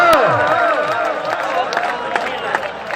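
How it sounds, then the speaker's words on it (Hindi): A crowd at a club match applauds loudly and cheers, with dense clapping and shouting that is strongest at the start and then carries on at a steady level, broken by a few sharper bursts. "जोरदार तालियां हैं"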